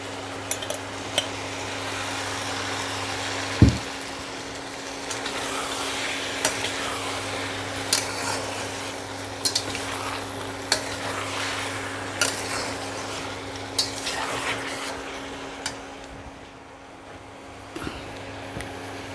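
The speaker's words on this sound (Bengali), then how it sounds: "মাটন কিমা কষানো হয়ে গেল এবার আমি দিয়ে দেব টুকরো করা আলু দিয়ে দেব ভেজানো মটর" Mutton keema being stir-fried in a pot with chopped potatoes and soaked peas added for ghugni, steady soft sizzling under a low hum with intermittent spoon clinks and scrapes against the pan.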